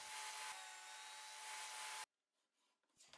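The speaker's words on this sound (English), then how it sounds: "To cut the rebates, I'll use the dado stack." A table saw fitted with a dado stack cuts a rebate into a board, a loud, steady whine and roar held for about two seconds before stopping abruptly, followed by quiet rustling and a brief rise of noise at the end.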